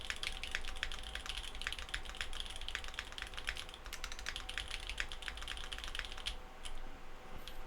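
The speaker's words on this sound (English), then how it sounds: "I just want to put on the spacebar to hear this" A Werk Technica Werk One keyboard clatters with a dense, steady run of sharp key and spacebar presses, close and fairly loud, over a low background hum with no talking.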